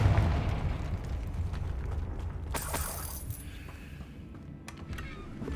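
The Confringo fire spell bursts in the video game Hogwarts Legacy, a rumbling blast with a bright crackling flare amid dense in-game clatter and low roar.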